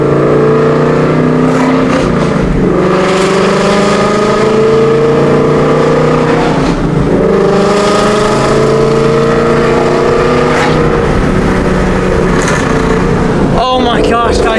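A freshly painted project car fitted with a 4-inch cowl hood runs loud and close, its engine droning with several rising revs and pulls, a brief rattle near the end.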